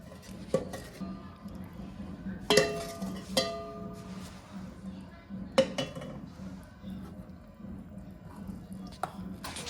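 Eggless fruit cake batter whisked in a bowl: irregular clinks and taps of the whisk against the bowl's sides with soft stirring in between, close and moderately loud, no speech.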